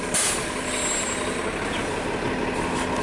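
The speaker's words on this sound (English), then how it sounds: "Well, there go the bus." A city bus pulls away with a steady, loud broadband engine roar and hiss, continuous and close for the whole few seconds, with no talk over it.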